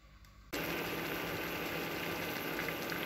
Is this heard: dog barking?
no